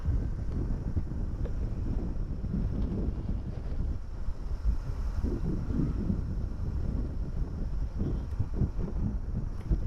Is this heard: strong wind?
yes